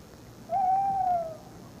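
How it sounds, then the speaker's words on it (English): A tawny owl's long, steady hoot sounds once from a resident bird at the edge of its territory, clear and fairly close against a quiet background. "Here's the resident answering the challenge."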